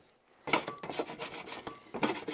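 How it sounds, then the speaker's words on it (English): Rough, rasping scraping of old glue from a surface where wood panels used to be, repeated close strokes after a brief quiet start, with no talking. "Scraping the glue off the old, where the wood panels used to be"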